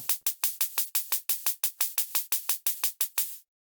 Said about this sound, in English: this is how our hi-hat sounds now.